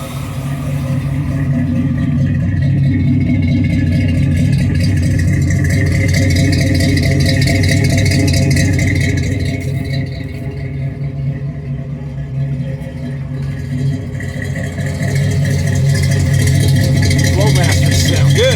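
A 1955 car idling through Flowmaster mufflers with no exhaust leak, a close, continuous throaty rumble with a faint rattle that holds steady for the whole stretch and rises slightly near the end.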